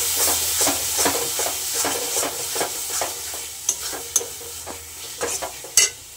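Spice masala of ground chili, cumin, coriander and salt is stirred and sautéed in oil, a steady low sizzle punctuated by regular scraping strokes and a few sharper clacks of the spoon.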